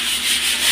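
A wall being sanded smooth during finishing work on a construction project: a continuous, close, airy rubbing hiss with no talk.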